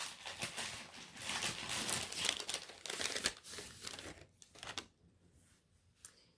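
Wrapped advent calendar package torn open at a knitting and crochet table, a busy crinkling and rustling of paper that runs close for several seconds, then thins to a few soft handling sounds and near quiet.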